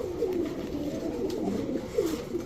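Soft, repeated cooing of Rajshahi Giribaz pigeons, a few low rolling calls close by against a quiet background hiss.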